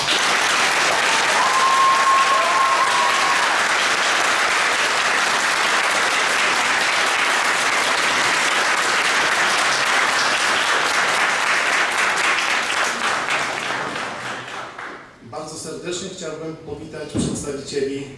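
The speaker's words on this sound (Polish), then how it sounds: "należą się i duże brawa dla pani e, profesor Aleksandry Wojciechowskiej" A school ceremony crowd gives loud, sustained applause for a professor, dense clapping that runs steadily for about thirteen seconds before fading out, then a speaker's voice comes in over a public-address system.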